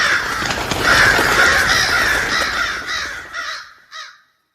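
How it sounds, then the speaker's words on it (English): A flock of ravens caws at a grave, many harsh overlapping calls forming a dense, loud chorus that thins into a few separate caws before falling silent. "The swarms of ravens by its turn add some kind of terrifying sense to the place."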